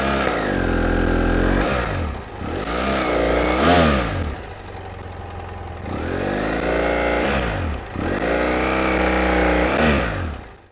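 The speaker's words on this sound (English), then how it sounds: "I'm gonna try to start the bike" A motorcycle engine started and revved with the clutch pulled in and the rear brake held, rising and falling in repeated close, loud bursts with brief dips between them.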